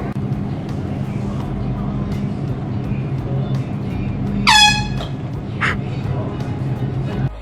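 A single loud air horn blast goes off in a store as a prank, a sharp blaring tone lasting under a second, followed by a shorter second burst over a low hum and background murmur.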